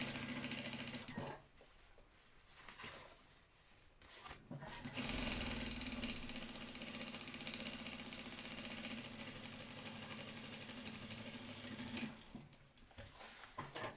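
Domestic sewing machine stitching a long seam in skirt fabric, a continuous fast mechanical whir with rhythmic needle clatter, briefly pausing and slowing near the start and again near the end, close and moderately quiet.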